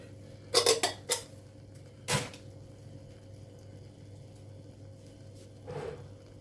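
A tin of tomato and onion is tipped into a pan for spaghetti bolognaise, making a few clanking metal knocks and a dull thud of contents landing, then a quieter scrape near the end.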